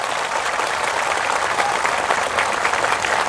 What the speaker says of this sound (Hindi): थोड़ा जोर से ताली मारो तो तिपरासा लोग।